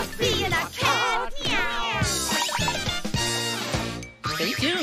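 A cat meows repeatedly in a sung, melodic way, likely a voice imitating the sound over music, with rising and falling tones and jingling accents throughout.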